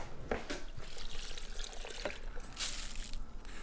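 Water pouring and trickling steadily into a container, with a few clinks and splashes, no talking.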